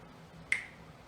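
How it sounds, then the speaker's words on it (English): A single sharp finger snap, close and crisp, standing alone against a quiet background. "when I snap my fingers, nothing happens"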